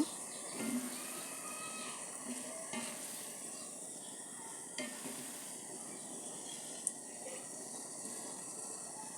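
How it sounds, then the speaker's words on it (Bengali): Boondi batter fries in hot oil, a steady faint sizzle and crackle with a few small pops, close and continuous, no talk. "30 থেকে চল্লিশ সেকেন্ড ভেজে নেব ক্রিপচি ক্রিপচি করে ভেজে নেব"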